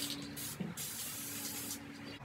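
Spray paint hissing from an aerosol can as orange coats the bottom of a glass bottle, steady bursts close to the mic with brief pauses between them.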